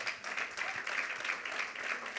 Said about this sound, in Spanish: Dé un aplauso fuerte al Señor.